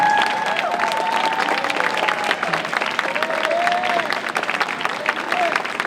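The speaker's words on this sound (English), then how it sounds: "stand up and give Mr. Cobble a round of applause." An inauguration audience gives a sustained round of applause, dense and steady clapping that fills the room, with a few voices mixed in.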